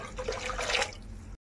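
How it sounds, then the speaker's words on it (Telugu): Two glasses of water splash into a pot on a stove in one short, close pour that stops abruptly. "స్టవ్ మీద మళ్ళీ నేను 2 గ్లాసెస్ ఆఫ్ వాటర్ వేస్తున్నానండి"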